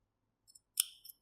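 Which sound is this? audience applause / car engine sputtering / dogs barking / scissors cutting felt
scissors cutting felt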